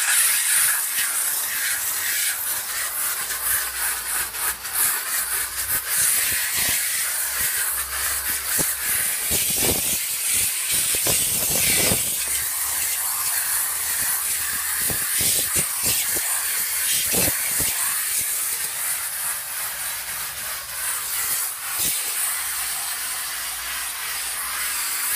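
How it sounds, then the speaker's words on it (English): A Chief Steamer 125 PSI steam cleaner hisses loudly and continuously, spraying steam in steady bursts with brief pauses, up close, cleaning the side of a car. "Go back to steam."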